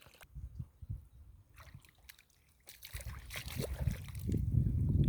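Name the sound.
irrigation water flowing into a wheat field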